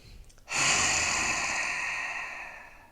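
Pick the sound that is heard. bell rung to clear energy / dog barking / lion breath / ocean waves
lion breath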